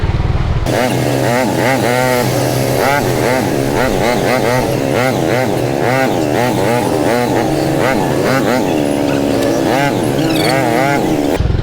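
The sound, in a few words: motorcycles in traffic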